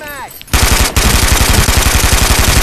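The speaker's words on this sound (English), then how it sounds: "I'm gonna show you another weapon. This is the SMG." Rapid automatic bursts from an SMG submachine gun in the shooter game Brink, fitted with a 60-round drum magazine, firing loud and close in a steady sustained stream after a brief quiet start.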